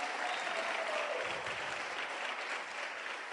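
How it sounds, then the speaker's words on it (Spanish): Steady applause from a church congregation, dense and sustained with no individual claps standing out, moderately loud and even throughout. "Denle un fuerte aplauso al Señor"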